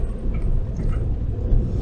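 Cabin of a moving car on the road: a steady, low engine and road rumble fills the space at moderate level, with no one talking.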